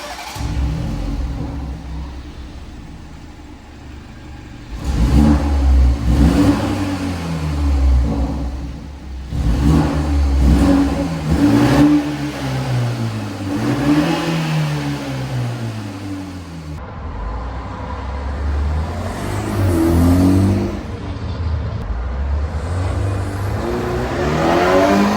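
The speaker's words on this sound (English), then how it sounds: "I'm going to give you every angle you can hear the intake from" BMW 330i fitted with a cheap aftermarket intake, revving and accelerating in repeated pulls, its engine note climbing and falling loudly through several gear changes with intake whoosh.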